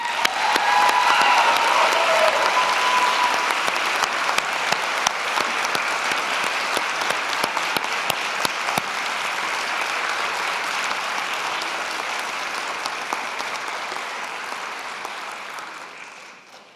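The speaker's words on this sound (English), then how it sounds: "Graduates, a round of applause, please." Graduates applauding at a university convocation ceremony in a large hall, a dense, sustained roar of many hands clapping that holds steady and then gradually thins and fades out at the end.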